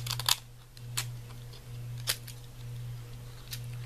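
Scissors snip through thick paper in a few sharp, quiet cuts spaced about a second apart, close by over a steady low hum, with no talking.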